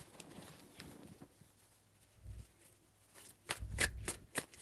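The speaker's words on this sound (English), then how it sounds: "Two shuffles." Tarot cards are shuffled by hand in a few soft, quick riffling bursts, close and fairly quiet, with short pauses in between and no talking.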